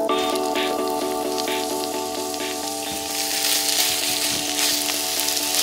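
Onions hit a good splash of olive oil in a very large frying pan and sizzle steadily, the crackle swelling brighter partway through as the pan heats up, alone under a faint background tone.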